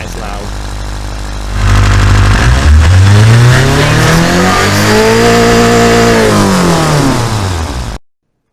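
A 365 hp hillclimb car with no mufflers and a big exhaust revs hard through a long, loud pull, its pitch climbing and then falling back before cutting off abruptly.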